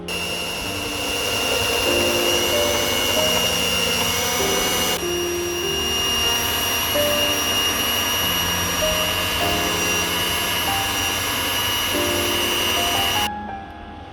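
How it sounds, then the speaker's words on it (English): An electric stand mixer kneads bread dough for a homemade bread bowl, giving a steady, loud motor whine and hum that runs continuously without pause, with a brief shift in tone partway through and a drop at the end. "later I am using my electric stand mixer for the kneading process"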